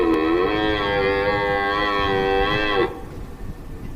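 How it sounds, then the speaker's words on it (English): A red deer stag calls with a long, steady, strongly harmonic bellow lasting nearly three seconds before cutting off, heard close and loud with only faint background afterward. "Number 1, red deer."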